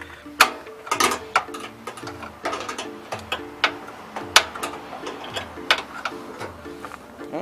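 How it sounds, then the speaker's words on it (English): Metal wrench clicking and ticking against a bumper bolt on a Hyundai Accent, a close, irregular series of sharp mechanical ticks and taps that continue for several seconds. "Then what you want to do is just use your 10mm wrench."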